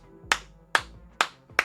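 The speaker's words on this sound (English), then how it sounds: "Two people show up just clapping in the background." Two people clap in the background at a live outdoor talk show in Boardman, Oregon: four sharp, evenly spaced claps, close and clear with no talking.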